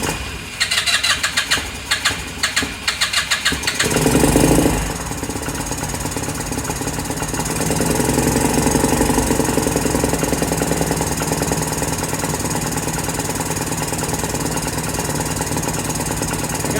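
A Lance Cali Classic 125cc scooter engine cranks in short rapid bursts, catches with a loud roar, then settles into a steady, fairly loud idle that swells slightly as the throttle is held open.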